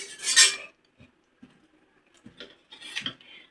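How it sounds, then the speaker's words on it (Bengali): A utensil scrapes and stirs palm fritter batter made with banana and jaggery in a bowl, coming in a few short rubbing strokes separated by quiet gaps. "এখানে কলা দিয়ে গুড় দিয়ে মাখা হচ্ছে, মাখছি আর কি।"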